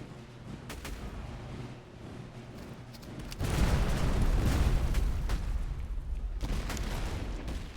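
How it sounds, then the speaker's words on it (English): Napoleonic-era musket volleys and artillery fire in the Master of Command strategy game: scattered crackling shots give way to a dense, rumbling barrage of booms and gunfire that continues without pause. "Just line up and start shooting."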